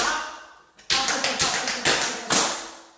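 Crisp tap shoe strikes on a hard floor in an intermediate tap class: a quick ball change followed by a stop, then a run of sharp, evenly spaced taps, close and clear.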